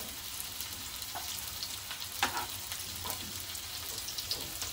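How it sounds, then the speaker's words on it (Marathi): Hara bhara kebabs shallow fry in oil, giving a steady, close sizzle and crackle with occasional louder pops, and no talking. "फक्त आपण तेलावरती फक्त थोडे शॅलो फ्राय करायचे आहेत"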